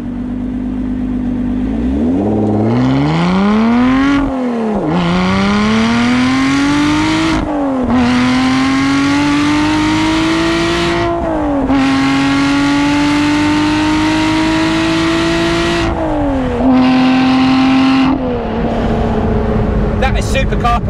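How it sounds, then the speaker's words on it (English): Lotus Exige 390 sports car launching hard from a standing start, its engine revving loud and close, climbing through several gears with brief dips at each shift before pulling steadily onward. "Let's punch it up a bit here. Do a bit of a standing start,"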